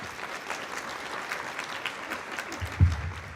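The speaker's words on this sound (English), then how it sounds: "If everybody give them a round of applause." An audience at a sheriff candidates' forum applauds two moderators, a moderately loud, even patter of many hands lasting a few seconds, with a single thump near the end.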